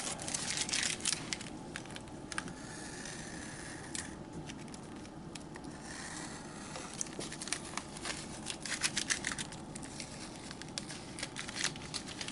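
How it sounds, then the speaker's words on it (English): A craft knife trims excess masking tape from freshly cut vinyl registration letters, giving a steady run of soft scraping, crinkling and brief cutting sounds at close range, with no talking. "I'm basically just going to trim the excess masking tape off"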